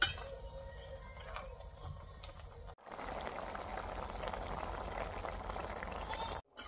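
Mustard greens boil in a pot, giving a steady bubbling wash that swells after a short break and runs on without talk.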